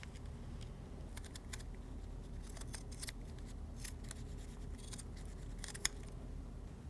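Scissors snip through carbon-fiber propeller repair material that is cut around a template, in a composite propeller carbon tip repair. The sharp, quiet cuts come in irregular bursts over a low steady hum, with no speech.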